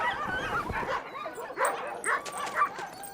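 Chained Arctic sled dogs on a village outskirts bark, yip and whimper excitedly in overlapping bursts, fairly faint and at middle distance.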